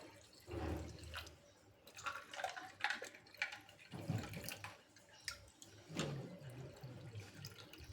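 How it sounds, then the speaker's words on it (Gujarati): Fresh water is poured into a mango mixture in several separate splashing bursts. Each one ends in trickles and drips, close and fairly quiet, with no voices. "એમાં હવે આપણે તાજું પાણી એડ કરવાનું."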